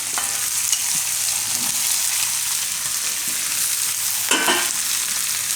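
Mushrooms tipped into a pan of frying onion and capsicum for Gujarati mushroom shaak, a continuous close sizzle with light stirring scrapes and a louder clatter of ingredients and spoon near the end.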